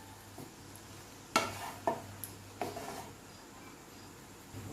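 Chow mein with vinegar and soy sauce being stirred in a pan, a few distinct scraping clanks of a utensil against metal over a faint sizzle, close and fairly quiet, with no talking.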